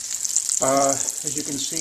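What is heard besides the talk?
breaded veal brain pieces frying in a pan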